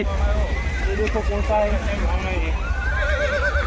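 A horse whinnies with a wavering, drawn-out neigh over the busy background of a horse market at a fair, while people talk nearby.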